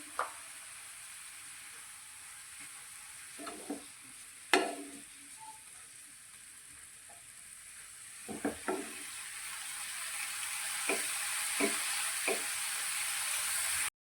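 A soft sizzle of grated bottle gourd sautéing in a pan builds gradually, broken by intermittent spoon clanks and scraping knocks against the pan.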